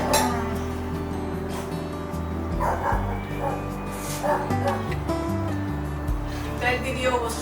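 Small dog yipping, barking and whimpering in a kitchen, several short high yelps and whines over steady background hum with occasional clinks of dishes and some talk.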